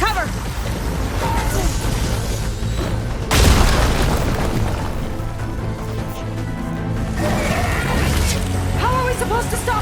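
An enemy machine firing at the player in Horizon Forbidden West, a single heavy, loud boom bursting out midway over a rumbling action soundscape, with voices heard around it.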